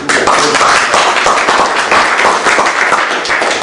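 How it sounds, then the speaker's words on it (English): Dense, steady applause from a crowd, sustained and loud throughout with no gaps. "I'd like a round of applause for CHD Shokat."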